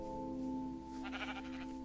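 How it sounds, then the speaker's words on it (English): Sheep bleat in a blocky building video game, a few overlapping calls rising over a steady droning music bed, moderately loud and close. "Lots of sheep."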